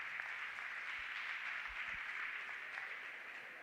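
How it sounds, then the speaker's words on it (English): Faint, distant audience applause at a South African Police Service campus safety forum launch held at a college, a steady wash of clapping for the arriving General that goes on for several seconds with no talk over it. "Let's clap hands for the General."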